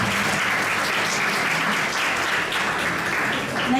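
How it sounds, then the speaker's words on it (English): Dense, steady applause from a seminar audience clapping for a student presenter, loud and continuous throughout with no break. "Please give a big round of applause."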